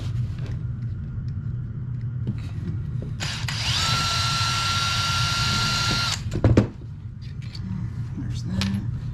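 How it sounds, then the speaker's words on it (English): Power drill backing bolts out of a Traxxas TRX4/TRX6 RC truck rear portal, a steady high whine lasting about two seconds, close and clear, followed by a clunk and light handling noises. "Turn up the drill settings here."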